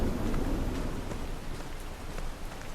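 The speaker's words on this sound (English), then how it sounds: "Starting to rain now." Rain falls steadily in the indie horror game Murmurs of Fear, a dense, even hiss of rainfall that continues without pause and with no voices over it.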